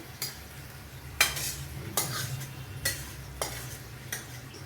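Spice mix scraped from a pan and stirred into prawn khichuri, a run of spoon scrapes and clinks against the pot roughly every second over a soft, steady sizzle, up close.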